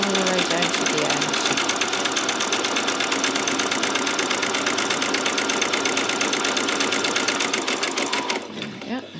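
Close and loud, a sewing machine runs a zigzag stitch on a peasant top, its fast rapid-fire needle rhythm steady for several seconds before stopping abruptly near the end.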